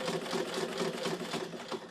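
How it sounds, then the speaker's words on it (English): A Singer 128 hand crank sewing machine is turned by hand, giving a steady, rapid mechanical chatter of needle strokes with an even rhythm, close and moderately quiet, with no talking. "to work it, you turn the hand crank"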